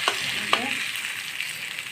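Pointed gourd and potato slices fry in hot oil, a steady broadband sizzle throughout with two sharp clicks of a utensil near the start, close and moderately loud.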